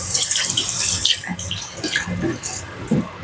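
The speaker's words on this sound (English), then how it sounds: "Wash my hands off." Water runs from a kitchen tap as hands are washed at the sink, a steady close splashing rush that carries through the clip.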